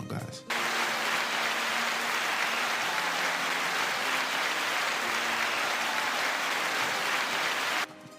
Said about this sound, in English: let's give President Biden a round of applause.